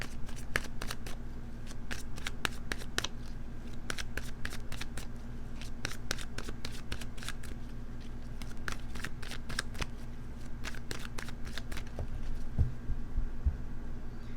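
A deck of tarot cards is shuffled continuously, giving rapid riffling clicks in uneven runs over a low steady hum, close and moderately loud with no speech.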